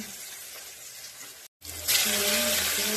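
Fish dropped into a hot pan of oil: a steady sizzle, a brief pause, then a loud surge of spattering frying that settles into a strong, continuous hiss close by.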